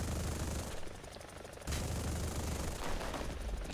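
Rapid gunfire from an AH-1Z helicopter's guns in War Thunder, a loud, dense rattle of shots over steady rotor and engine noise, with a brief lull near the middle before the firing resumes.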